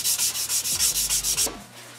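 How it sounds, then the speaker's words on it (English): Hand sanding of a Gears of War Lancer cosplay prop piece: about ten fast, even back-and-forth rasping strokes, close and loud, stopping abruptly after a second and a half. "And of course, continue to sand to make things look nice."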